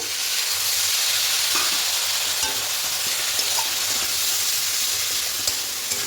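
Spice paste with ginger-garlic paste sizzles steadily as it is sautéed in a hot pan for katla fish curry with potato, a constant loud frying hiss with faint stirring scrapes and no talking.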